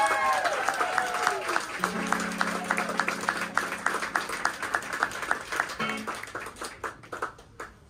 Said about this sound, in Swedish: En stor applåd!